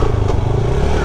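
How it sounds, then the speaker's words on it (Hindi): Motorcycle engine straining loudly while climbing a hill road toward Ayubia, a steady close, heavy drone with rough clatter and wind noise throughout, no pauses. "बाइक पे ट्रैवल करने के साथ साथ बाइक ज़ोर भी बहुत ले रही है"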